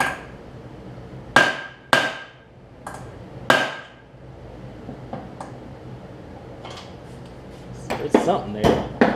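Several sharp metallic clanks and scrapes, close by and irregular, as a pry bar works against the flywheel of a blown Kohler Courage engine on a Husqvarna 46-inch riding mower, with a cluster of quicker knocks near the end.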